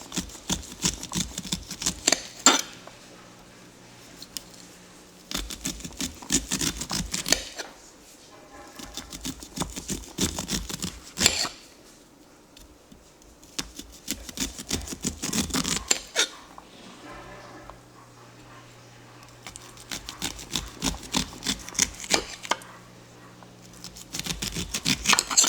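A knife scraping sweet corn kernels off the cob into a bowl, repeated bursts of crisp rasping strokes separated by quiet pauses, close and fairly loud.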